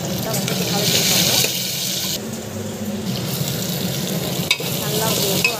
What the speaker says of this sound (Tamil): கடுகு போட்டு கடலைப்பருப்பு போட்டுட்டு வெங்காயம் போட்டுட்டு மஞ்சள் பொடி ஆட் பண்ணிட்டு வந்து கலக்கிருக்காங்க